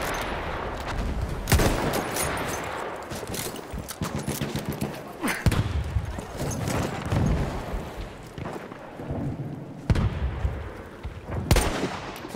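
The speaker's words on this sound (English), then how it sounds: "Feindliches MG gesichtet. Feindliches Maschinengewehr." Enemy machine gun fire rattles in Battlefield 1, dense bursts of automatic shots mixed with heavier booming blasts, loud and continuous across the battlefield with no voices.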